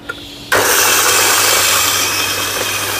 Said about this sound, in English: we put roast bean into grinder machine and use grain size